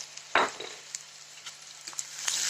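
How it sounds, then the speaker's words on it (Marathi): Onion frying in a pan with salt gives a soft, steady sizzle with occasional crackles and stirring scrapes, close and fairly quiet, with no talk. "चांगलं भाजून घेतो मीठ टाकल्यानंतर कांदा गोल्डन कलरवर चांगला भाजला जातो"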